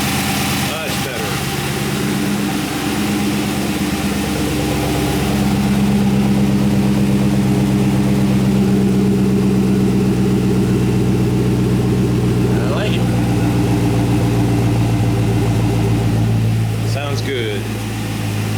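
A 1977 Camaro Z28 engine idles steadily and close for a long stretch after a power steering pump update, a low, even rumble that swells slightly partway through.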